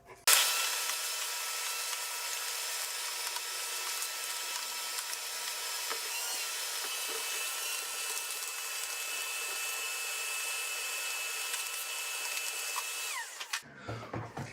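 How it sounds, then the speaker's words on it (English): A vacuum runs steadily with a loud, constant whine while cleaning an old outboard motor on an abandoned 1960s mid-engine mini boat, its pitch shifting slightly as the nozzle moves, then cutting off near the end. "Let me hit that with a vacuum first."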